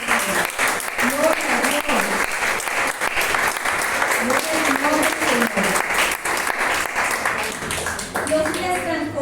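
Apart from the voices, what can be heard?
applause from a church congregation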